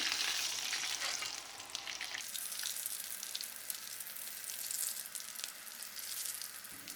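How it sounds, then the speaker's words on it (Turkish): Sausage sticks frying in hot oil until crisp, a steady bright sizzle that drops slightly after a couple of seconds and continues evenly, with no talking. "iyice kızarıncaya kadar bakın pişireceğim"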